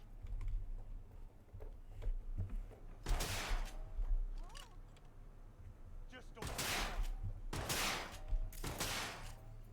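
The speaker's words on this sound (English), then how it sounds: "Who just shotgunned me in the back?" Gunfire bursts from the video game Cyberpunk 2077, several loud broadband blasts in a cluster, the last three close together, over a steady background of keyboard clicks and game sound.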